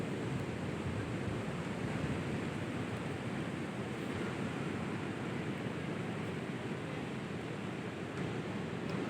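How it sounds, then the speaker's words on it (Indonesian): Large ocean waves at a beach, a continuous broad roar of surf with steady wash and no distinct breaks, moderately loud and unbroken throughout, without any voices. "Ombaknya lumayan besar kawan, jadi agak hati-hati. Ombaknya sangat besar banget."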